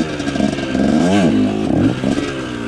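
A Kawasaki KT250 trials motorcycle ridden in second gear over small stumps, its engine close and loud, rising and falling in pitch through short revs with some clatter.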